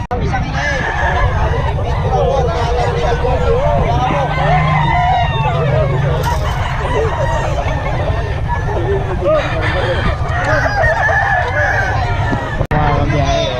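Fighting gamecocks crow repeatedly and hens cluck at a busy poultry market, loud and continuous, mixed with crowd babble and people talking nearby.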